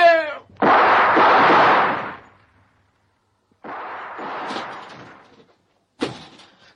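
Gunshot effects in a French comic radio serial: a loud, sharp burst followed by a sustained noisy blast, a pause of silence, then a second rougher volley and a final sharp crack, with no talk over them.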